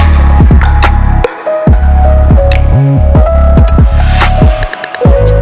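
Peanut harvester machine running in Ongole: a loud, close mechanical throb and hum with a rhythmic pulsing beat, sharp clanks and intermittent tonal whines riding over the engine drone.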